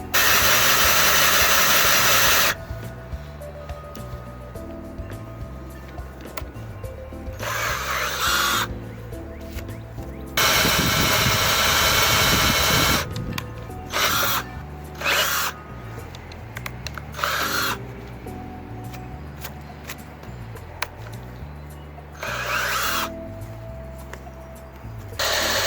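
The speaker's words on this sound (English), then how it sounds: "So now I'm basically just gonna go through and drill them all out" A power drill boring holes into a plexiglass arcade cabinet control panel: loud, whining bursts that start and stop repeatedly, with quieter pauses between holes.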